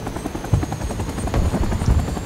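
Helicopter rotor in the Vietnam-era shooter game Rising Storm 2: Vietnam, a steady loud chopping thrum with low thumps, heard alone without voices.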